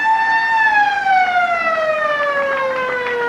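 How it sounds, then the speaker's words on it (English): A ground siren signals the end of a 1983 Teal Cup Australian football game between Victoria and South Australia, a loud, sustained wail that slowly slides downward in pitch, with no voices over it. "I'd say when this ball's kicked and relayed back, they'd blow the siren"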